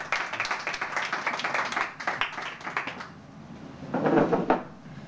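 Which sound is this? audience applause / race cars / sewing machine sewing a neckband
audience applause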